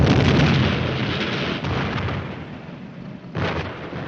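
A tank gun round fired at and striking a German Panther tank in a 1951 war film: a loud, continuous rumbling roar with a second sharp burst near the end, and no voices.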